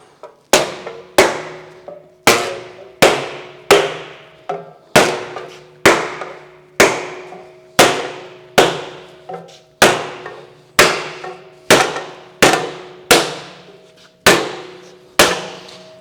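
A hammer strikes a sheet metal tube resting on a soft pine wood block, about eighteen sharp, ringing blows at a steady, even pace, close and loud with short decays.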